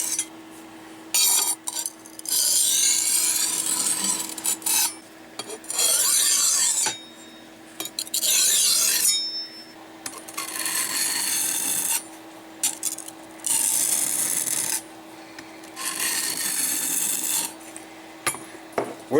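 A knife blade is drawn across a sharpening stone in repeated rasping strokes, each a gritty scrape lasting a second or two with short pauses between, close-up and alone with no speech.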